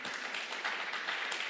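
An audience at a civic funding talk applauds, a short burst of dense, even clapping filling the room without anyone speaking over it.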